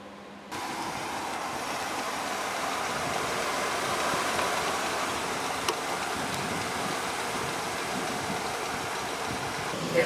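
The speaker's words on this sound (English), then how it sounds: "The engine's running now and you can't even hear it inside." The engine of a 2001 Dutch Star motorhome idles in a steady, low hum, heard faintly from inside the vehicle with a few small clicks over the drone.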